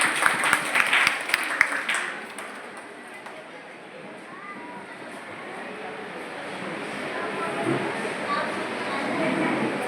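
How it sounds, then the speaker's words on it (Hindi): An audience at a school parents' event applauds, with a burst of loud clapping at first that fades into a softer, steady crowd wash of applause and room noise. "तो एक बार जोरदार तालियां बजाइए"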